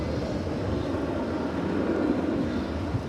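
An American Airlines Boeing 777 at DFW airport produces a steady, broad low engine roar, distant and unchanging across the moment, with no talking.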